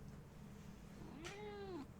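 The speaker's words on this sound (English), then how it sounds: "Right, the cat wants attention again." A house cat gives a single drawn-out, rising-then-falling meow close by, over a quiet background hum with no talking.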